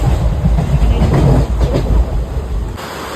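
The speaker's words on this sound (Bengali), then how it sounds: "এই ট্রেনে উঠেছি" A passenger train runs steadily on the rails on a rainy day, a loud, close rumble with rhythmic clickety-clack from the carriage wheels, heard from inside or beside the moving train, with no talking.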